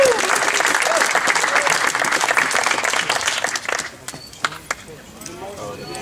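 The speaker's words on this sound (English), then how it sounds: "Let's give a round of applause for all the boys." Audience applause for the boys at the final of a 47th invitational event: dense, loud clapping from a crowd that fades after about four seconds into a few scattered claps.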